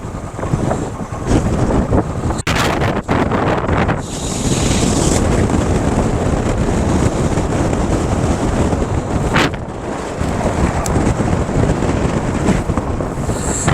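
Strong, steady wind roars across a microphone at Khardung La, a high Himalayan mountain pass in Ladakh, on a Classic 350 motorcycle ride, a loud continuous buffeting rush with brief dips and no talk.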